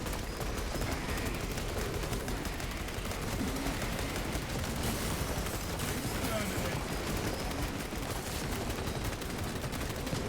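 Space Marine 2 gunfire: a dense, unbroken stream of rapid shots and impacts crackles for the whole stretch, loud and continuous with no pauses.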